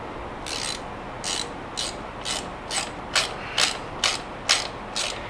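A ratchet wrench clicks in about ten short bursts, evenly spaced, while bolts are loosened on a 2007 Harley Davidson Electra Glide Ultra Classic during a belt replacement. The ratcheting is close and there is no talking.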